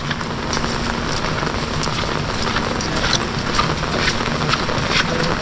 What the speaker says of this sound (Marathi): आणि पाऊस एकदम जोरदार आहे रत्नागिरीला